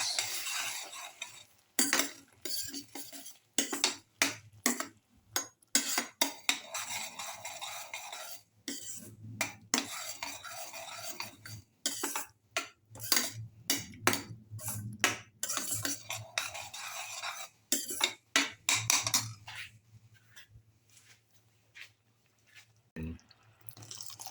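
Spoon stirring a cardamom rice and raisin mixture in a pan, soft irregular scraping and clinking strokes with faint wet bubbling, close and steady with brief pauses between strokes, no talking.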